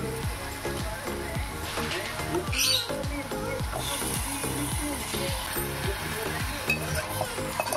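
Chicken meat sizzling and frying in a pan as it is stirred, with a steady dense crackle and repeated scraping strokes throughout, fairly close and continuous.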